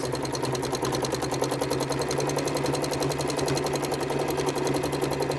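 A sewing machine runs steadily while quilting repeating curves, a fast continuous needle rhythm with a constant motor hum, close and loud throughout with no pauses.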